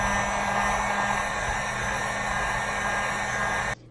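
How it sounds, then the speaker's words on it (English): A heat gun on a low setting blows steadily over freshly painted Proline Pomona RC wheels to cure the paint, a constant loud broadband whoosh that holds without a break and then cuts off abruptly just before the end. "I'm going to use my heat gun, and we're going to just basically do a low heat over it so it kind of cures the paint"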